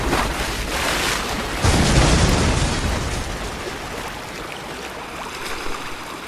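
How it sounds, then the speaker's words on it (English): A loud explosion booms at a waterfront in Saints Row, a roaring blast that swells midway and then settles into a long, rumbling wash of debris and churning water, with no voices. "A deadly explosion has rocked the waterfront."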